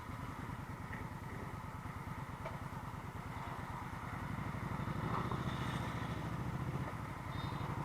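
An Indian Scout motorcycle ridden on the road, its engine giving a steady, low pulsing thrum that swells slightly midway, heard close and continuous with no talk.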